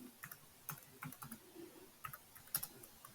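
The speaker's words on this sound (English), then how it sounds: "I'm going to type the word Astral Dynamics" Keystrokes on a computer keyboard while entering text in Excel, a quiet run of irregular clicks with brief bursts and pauses, alone without speech.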